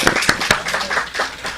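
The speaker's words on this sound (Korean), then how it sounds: "제가 커피 하나 쏘고 박수를 한번." A handful of people clapping in a small church gathering, a few distinct sharp claps followed by softer scattered clapping, close and brief.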